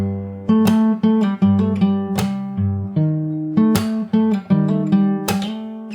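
Fingerstyle acoustic guitar plays a passage of a pop song, with plucked bass notes and chords in a steady rhythm, close and clear, with no voices.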